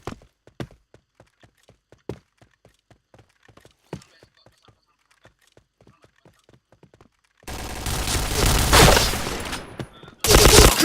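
Gunfire in a first-person shooter video game at an internet cafe: a string of sharp single shots spaced irregularly, then dense loud bursts of rapid fire near the end.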